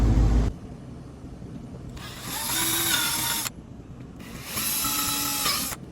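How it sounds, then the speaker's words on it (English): A power drill whirs in two separate bursts of about a second and a half each, re-drilling mounting holes in a carbon fiber part, close by, with quiet pauses between. "I just gotta re-drill the mounting holes and toss it on."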